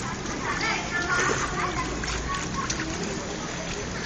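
Someone jumps into water, making a broad splashing and sloshing wash that fills the clip, with chattering voices and someone speaking mixed into the noisy background.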